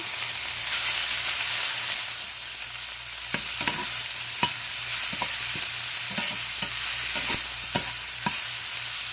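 Steady, close sizzle of mushrooms frying in a pan fills the whole stretch, with scattered sharp clicks and scrapes of a utensil stirring.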